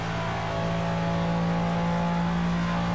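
A McLaren F1 GTR Long Tail race car in the video game Project Cars, its engine holding a loud, steady, high-revving drone with strong harmonic tones for a few seconds.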